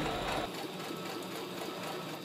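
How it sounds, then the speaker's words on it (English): A home sewing machine stitching around the outside edge of a fabric bag close to the cording, a steady fast mechanical whirr, close and quiet, running without pause after a brief louder start. "Now I'm sewing all the way around the outside, close as possible to that cording."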